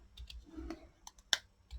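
Quiet, sparse clicks of typing on a computer keyboard indoors, a few separate keystrokes with one sharper tap, close but faint.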